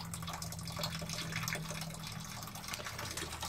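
Water running out of the overflow of a Victorian Shanks cast iron cistern, a continuous soft trickling and gushing flow with a faint low hum underneath.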